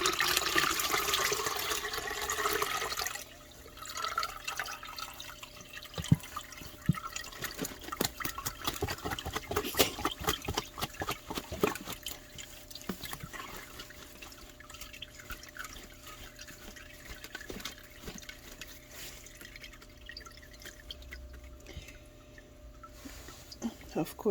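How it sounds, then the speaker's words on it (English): Worm tea is strained to separate out the worm castings: a quiet pour and splash of liquid at first, then soft drips and trickling that continue faintly. "straining it is the easiest way to separate the castings from the worm tea"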